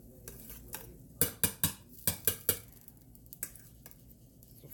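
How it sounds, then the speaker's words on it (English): A fork whisks cooked potatoes in a pot, giving a string of sharp metallic clinks and scrapes, about seven quick strikes in a row followed by a few softer taps, close and clear with no talk. "Just take a fork and whisk them"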